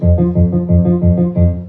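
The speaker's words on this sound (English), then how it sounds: "We use my left hand to play ostinato bass or repeated bass." A low piano left-hand ostinato bass figure repeats in a steady loop, the same short pattern pulsing about every fifth of a second, loud and close.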